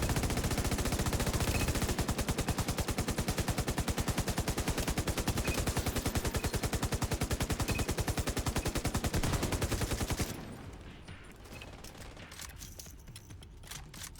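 Enemies behind a gate firing guns in a video game: dense, rapid, sustained automatic gunfire at a steady loud level for about ten seconds, then cutting off to a quieter background with scattered faint shots.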